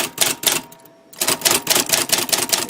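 Typewriter keys striking in a quick, uneven run of sharp clacks, close and loud, with one short pause partway through and no talking.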